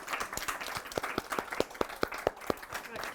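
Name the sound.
applause for a drag performance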